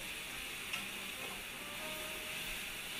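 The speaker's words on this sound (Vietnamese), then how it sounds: "cho khoảng 2 muỗng canh tỏi băm phi vàng" Minced garlic fries in cooking oil for a steamed fish with scallion and ginger, giving a soft continuous sizzle and hiss, fairly quiet and even, with one faint clink near the start.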